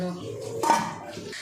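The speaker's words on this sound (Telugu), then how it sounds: "ఇలా అయినాక మూత పెట్టుకోవాలి." A metal lid set onto a pot of simmering spicy Kurnool-style chicken gravy, one sharp clink midway through a short stretch of kitchen sounds, with someone speaking.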